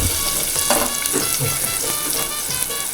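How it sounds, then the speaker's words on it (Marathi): Onion sizzles in hot oil in a home kitchen while Malvani prawn curry is being made. The frying is steady and close, with occasional stirring scrapes and no talk. "ह्याच्यात पहिला आपण कांदा टाकून घेतो हां गरम झालेलं आहे या आवाज बघा"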